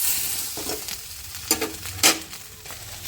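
Soybean chunks and potatoes fry in hot oil with green chillies and cumin tempering for a Bengali vegetarian curry, giving a soft steady sizzle broken by a few louder scraping stirs of the spatula.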